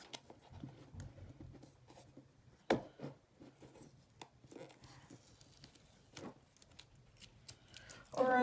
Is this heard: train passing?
no